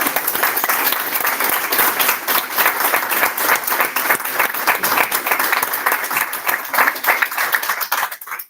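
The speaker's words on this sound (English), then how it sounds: "a huge round of applause for you for everything that you've achieved" Sustained applause from an audience at an award ceremony, steady dense clapping close by for about eight seconds before cutting off abruptly at the end.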